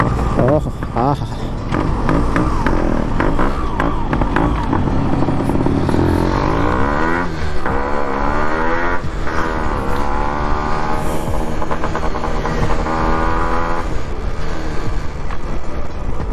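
Yamaha RXZ motorcycle engine on the move during a mileage test, revving close up with pitch that climbs and falls repeatedly over wind buffeting, holding steady throughout.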